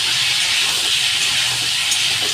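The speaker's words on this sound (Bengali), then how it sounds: "অবশ্যই সবজিটাকে ভালো করে লাল করে কিন্তু ভাজতে হবে।" Vegetables frying in a pan with turmeric give off a loud, constant close-up hiss of oil, a smooth sizzling wash with no breaks and no voices.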